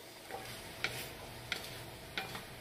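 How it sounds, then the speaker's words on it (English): A spoon stirs sausage cranberry dressing in a pan with quiet, regular scraping and a few light clinks spaced under a second apart over a faint background hiss, with no talking. "Now I'm just going to be stirring it around like this for about 2 minutes"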